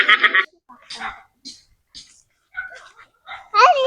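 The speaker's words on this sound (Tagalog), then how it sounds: "Nakatakot naman mga aso." Dogs bark in short bursts along a rural road leading to a farm in Zambales, with a few yips and whimpers, while people talk nearby between the barks.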